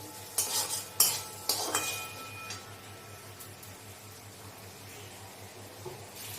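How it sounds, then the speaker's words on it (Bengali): Shrimp stirred in a pan of hot oil with salt and turmeric: a few loud scraping clatters of a utensil against the pan at the start, then a soft, steady sizzle that settles underneath. "এতে দেবো সামান্য একটু লবণ আর সামান্য একটু হলুদ দিয়ে আমি এটা ভালো করে ভেজে নেব"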